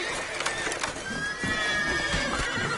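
Roach, Geralt's horse in The Witcher 3, whinnies loudly and close, followed by hoof clops and a second shorter neigh amid the game's ambient sound, with no talking.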